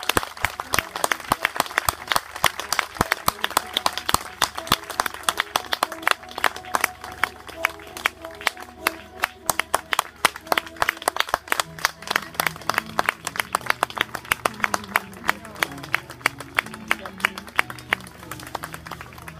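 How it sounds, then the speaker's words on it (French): An audience claps steadily for female riders at an equestrian show, with sustained close applause and scattered voices running under it throughout. "Alors n'hésitez pas à applaudir, les cavalières apprécient particulièrement."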